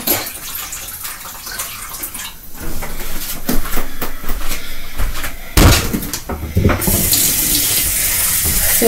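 A tap runs steadily, cold water filling a container for the freezer, with a rushing stream that deepens and brightens as the vessel fills, broken by a few knocks and clunks of handling nearby.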